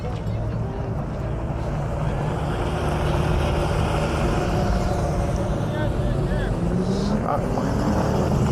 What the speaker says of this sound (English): And then the other Porsche's leaving.